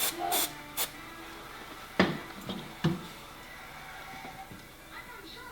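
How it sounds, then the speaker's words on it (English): Short hissing bursts of glue activator spray, several in quick succession, over quiet background noise and faint handling sounds. "Spray the activator."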